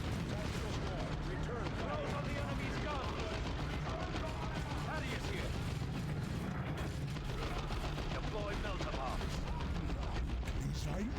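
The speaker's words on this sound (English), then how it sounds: "Cannon firing!" Cannon fire in a rainy war video game, a dense, continuous rumble of booming shots and crackling gunfire mixed with game noise, with someone talking over it throughout.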